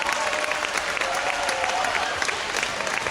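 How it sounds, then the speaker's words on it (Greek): Dense, steady applause from an indoor audience at a school band concert in a closed sports hall, a continuous wash of clapping with faint crowd noise beneath. "Ένα μεγάλο χειροκρότημα για το πρώτο Λύκειο και το συγκρότημά του."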